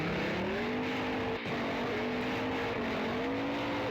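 A car in a stunt driving video game hums with a steady engine tone that rises and falls as it accelerates, with one brief dropout, loud and alone without talk.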